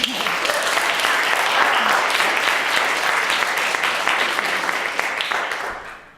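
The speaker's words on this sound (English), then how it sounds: "give a huge round of applause for Claire and her speech entitled Food as M" Loud, sustained applause from a live audience at a public-speaking competition, dense clapping filling about six seconds before tapering off at the end.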